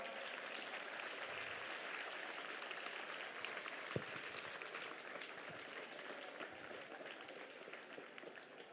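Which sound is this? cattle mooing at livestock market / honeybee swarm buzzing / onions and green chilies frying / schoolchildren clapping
schoolchildren clapping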